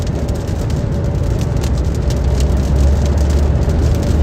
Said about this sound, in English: that whistling noise you hear is the Starlink